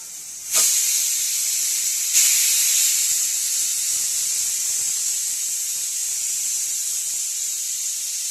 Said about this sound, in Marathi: झाल्या आपल्या 3 शिट्ट्या. आता कुकर उघडून पाहू आपण.